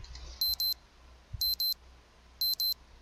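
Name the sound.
cell phone alarm ringing in video game Saku Saku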